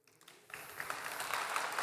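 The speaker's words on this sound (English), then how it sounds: "Can I get a clap?" Audience at a tech conference session in London breaking into clapping, starting quietly and swelling into steady, fairly distant applause.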